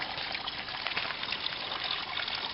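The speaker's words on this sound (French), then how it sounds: "Voilà la fontaine." Water from a public fountain runs in a continuous, moderately loud trickle and splash, steady and unbroken throughout with no talking.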